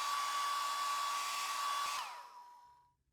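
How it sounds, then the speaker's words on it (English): A hair dryer blows with a steady, loud whir for about two seconds, heating a vinyl phone skin, then switches off and winds down to silence. "Grab your hairdryer and heat one of the two flaps until it becomes soft."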